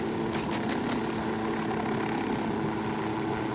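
A helicopter in Ghost Recon Wildlands makes its landing approach, a loud, steady rotor and engine drone filling the whole stretch with faint rhythmic blade chop on top.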